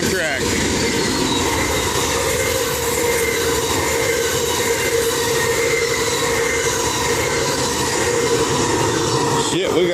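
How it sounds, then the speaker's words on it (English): An Amtrak passenger train rumbles past up close, steady and loud for the whole stretch, with metallic wheel squeal and rail noise layered over a deep drone. "There it is, the Amtrak."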